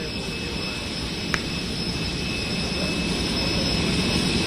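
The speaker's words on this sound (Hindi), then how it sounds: "प्रधानमंत्री नरेंद्र मोदी का ये विशेष विमान" The Indian Prime Minister's special plane sits at an airport with its engine running. A constant, loud, broadband roar carries a high whine and stays steady throughout.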